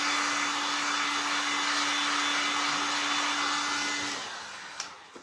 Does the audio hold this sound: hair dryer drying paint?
yes